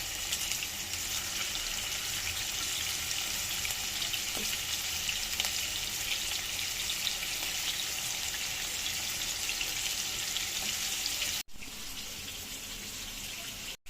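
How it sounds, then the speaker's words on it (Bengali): Farm chicken pieces fry in a pan with a continuous hissing sizzle that holds steady for the whole stretch, then breaks off briefly near the end; no talk. "এই জন্য একটু মুরগি মাংসটা ভেজে নিচ্ছি"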